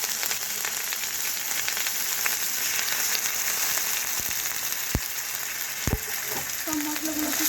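Spices with ginger paste and garlic paste fry in a pan for a fish cutlet, giving a steady, dense sizzle with a few sharp clinks of stirring near the end.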